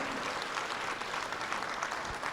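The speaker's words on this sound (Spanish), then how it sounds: "Dele un fuerte aplauso a ese Jesús que es tan bueno." A congregation at an evangelistic campaign gives a steady round of applause, a continuous wash of clapping heard at a distance and fairly faint.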